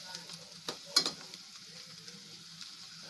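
Whole spices dry-roasting in a pan for a Maharashtrian prawn curry, with a faint steady sizzle, a couple of sharp scrape-like clicks from stirring near the start, then quieter crackle.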